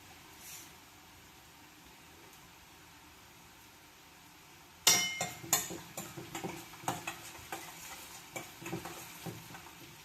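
Garlic and ginger sautéing in hot oil for lemon pickle: near-silence at first, then a sudden close burst of sizzling with repeated scraping stir strokes and clinks of a spoon against the pan.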